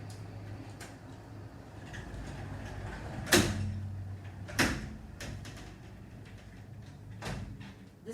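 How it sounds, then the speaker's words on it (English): A house door being closed on a warm day in the Dominican Republic, with a solid thud and a second knock amid light handling clatter over steady low hum, close and without talk. "So I'm going to walk over there and close that door."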